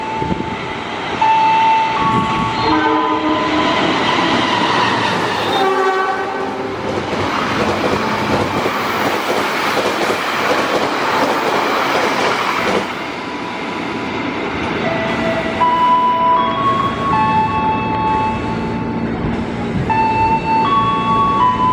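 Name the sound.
train passing with horn, tourist train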